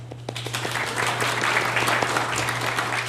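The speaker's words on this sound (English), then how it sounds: "So, round of applause." Congregation applause in a church, a dense, continuous wash of many hands clapping at a steady moderate level under a low constant electrical hum, with no talking.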